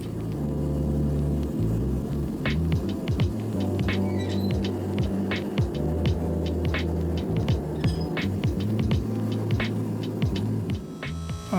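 A steady, loud low hum and throbbing rumble fills a forge heating a damascus billet of 1084 and 15N20 steel for a Bowie knife, with faint ticks and rattles scattered over it.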